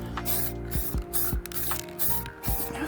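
Rust-Oleum spray paint hissing from a can as a clear coat is applied while building a skylight, with steady near spray broken by the rattle and clicks of the can about every half second.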